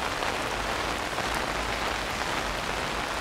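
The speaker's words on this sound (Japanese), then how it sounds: "雨足がマシになるのを待った。" Steady rain falls on a street in Tokyo near Otsuka Station, an even, dense hiss of drops on the pavement that stays constant throughout, with no voices.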